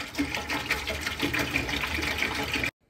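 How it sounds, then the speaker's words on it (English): Apple cider and apple juice pour into a stock pot, a steady close splashing gush that runs continuously before stopping abruptly. "Go ahead and pour your apple cider and your apple juice into your stock pot."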